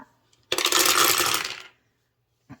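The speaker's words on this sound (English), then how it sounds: "You're going to take 10 dice and you're going to roll it." Ten dice rolled together, a single loud clattering rattle lasting about a second as they tumble and settle, followed by one faint click.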